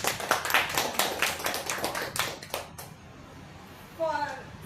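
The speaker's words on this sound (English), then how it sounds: "Let's give a big round of applause for him." An audience at a club meeting applauds: a few seconds of moderate, fairly close group clapping, then it fades out and a person begins speaking.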